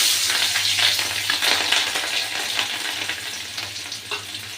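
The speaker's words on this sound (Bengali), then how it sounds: "ফোড়নের জন্য দিয়ে দিচ্ছি কালো জিরা, শুকনো লঙ্কা আর দিয়ে দিচ্ছি থেতো করা রসুন আর চেরা কাঁচা লঙ্কা।" A tempering of black cumin, dried chili, crushed garlic and slit green chili fries in hot oil, giving a loud, crackling sizzle with stirring scrapes throughout, close up.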